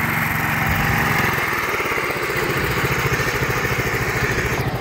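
An all-original Sears riding lawn tractor engine runs nearby, loud and close, chugging in a steady rapid pulse with an idling, putt-putting tone and no talking.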